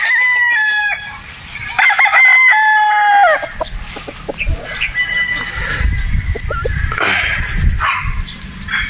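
A Possum strain gamefowl rooster crows loudly and close, followed by clucking and farmyard commotion with other birds and a possible dog nearby.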